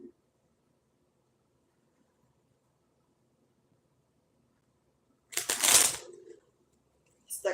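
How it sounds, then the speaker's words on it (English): A deck of cards is shuffled in one short, crisp riffle burst after a long near-silent stretch, close and fairly loud, with another brief rustle at the very end. "I'm going to shuffle now."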